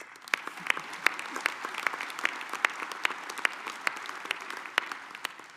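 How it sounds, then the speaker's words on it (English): An audience applauds at the U.S. Soccer annual general meeting, steady clapping with sharp individual claps standing out, sustained without talk. "They deserve a round of applause."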